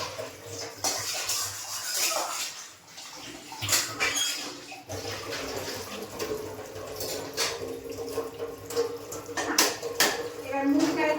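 Water being poured out and splashing in a kitchen sink or tub, with clattering pots and dishes, running steadily under occasional talk.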